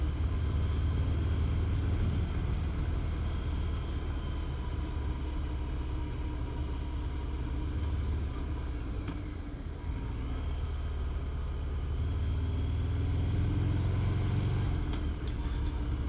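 A 2018 Harley-Davidson Fat Bob 114 cruiser on a bumpy road in Namadgi National Park drones with a steady, low engine rumble mixed with wind roar, with no voices over it.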